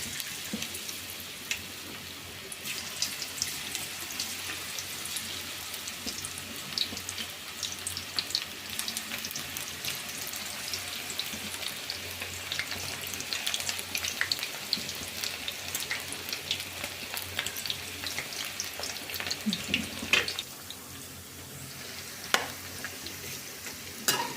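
Cauliflower pakodas dropped into hot oil fry with a steady broadband sizzle that runs throughout, near and fairly loud, with occasional clinks and stirring noises and no talk.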